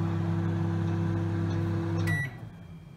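A Sharp R-372M 25-litre microwave running in defrost mode, a steady low electrical hum that cuts off near the end with a brief high beep, no voices.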